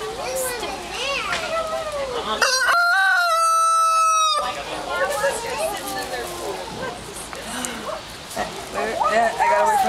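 Chickens cluck while a rooster crows loudly nearby, with lively voices talking throughout.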